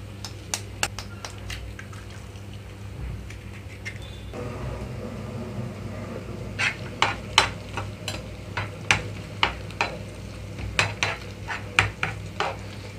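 Beaten eggs fry in a pan over medium flame with a soft steady sizzle, punctuated by repeated sharp clicks and scrapes of a spatula stirring against the pan.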